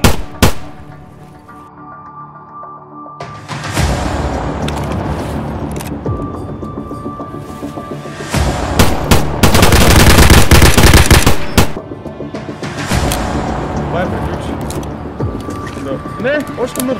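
Bursts of automatic gunfire in the video game Escape from Tarkov, loud rapid volleys with a long sustained burst in the middle and sharp single shots between, while players talk in Russian over the shooting.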